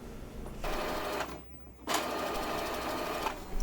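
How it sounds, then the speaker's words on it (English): An Epson XP-4105 inkjet printer initializing after refill cartridges go in, with steady mechanical whirring and carriage movement, a brief pause, then the motor running again, close and continuous. "after the printer initialization"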